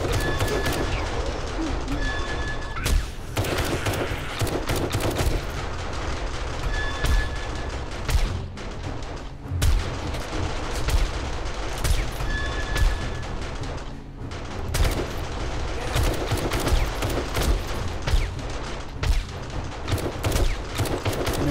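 Automated gun turret in 7 Days to Die blasting away at a massive zombie horde at night, rapid continuous bursts of gunfire crackling nonstop and loud, with dense overlapping shots and brief lulls.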